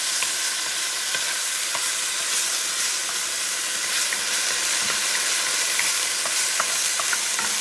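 Sofrito sizzles steadily in a pot as it is stirred, the base for Puerto Rican carne guisada beef stew; a dense, continuous frying hiss with small crackles throughout, close and fairly loud, no voices.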